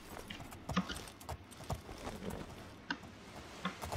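Horse hooves clip-clop in the video game The Elder Scrolls IV: Oblivion, a quiet, uneven run of hoofbeats at moderate distance with no talk.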